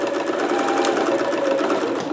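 A sewing machine stitching a short back stitch on a Vogue 8280 garment, a loud close rapid mechanical whir running evenly throughout.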